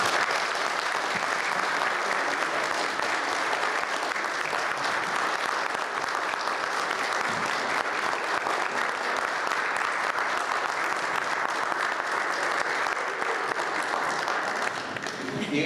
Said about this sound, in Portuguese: vamos aqui dar uma boa salva de palmas a todas elas